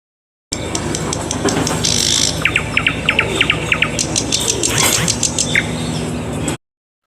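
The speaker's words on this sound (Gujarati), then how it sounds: "NIGHTINGALE નાઇટેંગલ એટલે બુલબુલ." Nightingale song: repeated bright whistled phrases and rapid chirps in a steady sequence, fairly close and clear over a constant low rumble of background noise.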